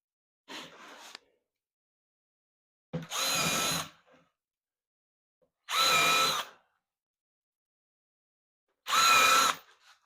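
Power drill boring pilot holes into cedar boards for a planter: four separate bursts, a short light one followed by three longer, louder whirring runs, each about a second, with quiet pauses between and no talking.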